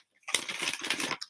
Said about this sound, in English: So I'm just shuffling the cards until Soul tells me to stop.